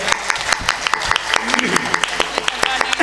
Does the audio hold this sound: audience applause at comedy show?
yes